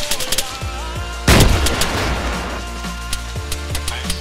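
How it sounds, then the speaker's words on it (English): Gunfire in the military shooter game ARMA 3: a loud burst of shots with a booming crack in the middle, surrounded by sharp repeated rifle reports at irregular intervals. "Open fire, guys."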